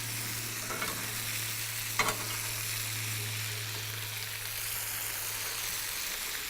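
Fresh fish fries in a pan with a soft continuous sizzle and light crackle, quiet and steady, with a low hum underneath and one brief clatter partway through.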